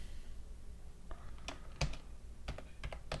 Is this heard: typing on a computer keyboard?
yes